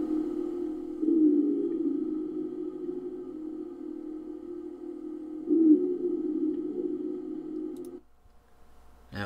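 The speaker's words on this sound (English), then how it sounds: "you'll hear some groaning noises in the background." Low, droning groans hidden in the background of a Cyberpunk 2077 ARG video swell twice in long, moaning waves over a constant hum, then cut out near the end.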